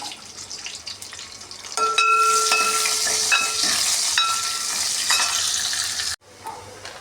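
Mustard and cumin seeds crackle and sizzle loudly in hot oil with a steady hissing fry, a few metallic clinks early on, then the sound cuts off abruptly near the end.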